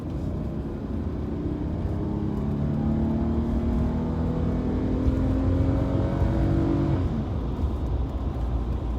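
A 1989 Toyota Soarer engine pulls hard, its drone climbing steadily in pitch for several seconds before easing off, loud and continuous with no talking.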